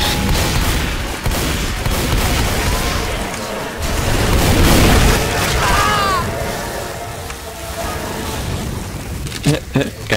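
Gunfire in Left 4 Dead 2, loud bursts of shots and booming impacts mixed with other game noise, dense in the opening seconds and again near the end, with voices talking over parts of it.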